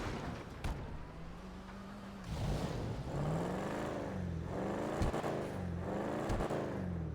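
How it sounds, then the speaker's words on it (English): A restomod Mustang in GTA 5 revs its engine repeatedly, several rising and falling throttle blips with a deep, throaty tone over a steady idle, close and loud. "I'll give it a rev as well"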